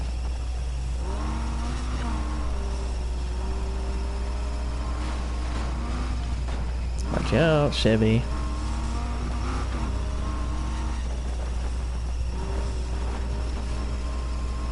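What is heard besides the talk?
damaged car engine in Need for Speed Heat video game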